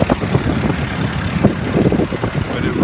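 A 2007 International 4400 dump truck with its engine running, a loud, close diesel rumble with steady low knocking and some rattling, continuous and with no talk over it.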